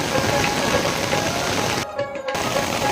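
Heavy rain pours down in a dense, unbroken hiss that briefly drops out for a moment before resuming just as loud.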